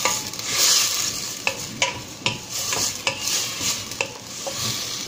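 Onion, garlic and tomatoes fry in a hot pan with a steady close sizzle, while a utensil stirs and scrapes against the pan in irregular clicks.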